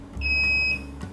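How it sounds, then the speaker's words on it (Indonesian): A single electronic buzzer beep from a digital prayer-time clock, high and clear, sounds for about half a second against a low background hum. "Akan berbunyi buzzer 3 kali"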